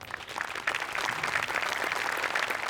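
Studio audience applauding at a Marathi comedy show, a dense steady wash of many hands clapping that swells slightly after the first moment and holds at an even level throughout.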